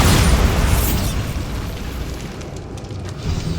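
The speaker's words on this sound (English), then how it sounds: "Bombarda!" A loud, broad magical explosion from the Bombarda spell in Hogwarts Legacy booms at once and then rumbles and crackles away as debris settles, with no talk over it.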